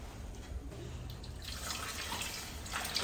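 Tap water runs and splashes into a pot of goat meat in a home kitchen, a faint, soft trickle that swells into a brighter, fuller pour partway through.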